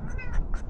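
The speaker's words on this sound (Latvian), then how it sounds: "Nu, ko tu ņaudi?" A stray cat meowing up close on a street in northern Spain, three short plaintive mews in quick succession, fairly loud against low background rumble.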